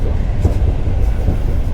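Inside a moving first-class PKP Intercity Szkuner train carriage: a loud, steady low rumble of wheels and running gear with faint rhythmic knocks, continuous throughout.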